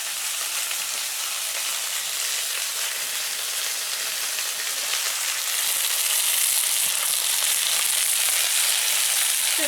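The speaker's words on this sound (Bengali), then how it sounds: "মাছ ভাজছিলাম এত সময়, মাছটা প্রায় ভাজা শেষ হয়ে এসছে, আর কটা মাছ ভাজছি" Fish fry in hot oil in a home kitchen pan, a steady, close crackling sizzle that swells slightly louder partway through, with no voices.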